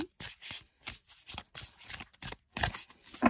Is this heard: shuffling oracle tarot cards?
yes